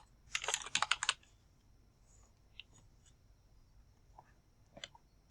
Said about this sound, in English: I'm going to type in young adults.